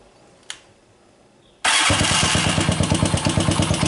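A motorcycle engine cranks and catches after a 3-phase stator swap, a sharp click first, then a loud, steady, throbbing idle that runs to the end with no talk.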